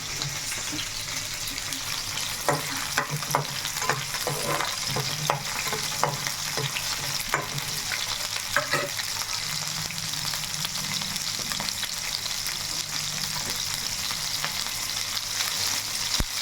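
Mustard seeds popping in hot oil while tempering a tomato chutney, a steady close sizzle with a run of sharp pops and crackles early on, then a softer, even frying hiss.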